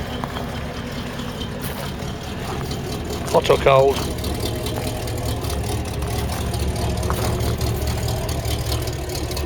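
A 1979 Ford F150 4x4 classic truck with a lift kit idles after a cold start, a steady close engine rumble running underneath, while a person speaks briefly near the start.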